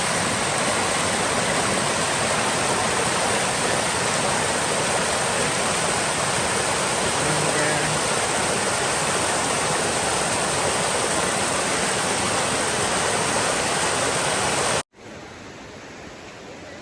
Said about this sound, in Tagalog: Meron itong falls.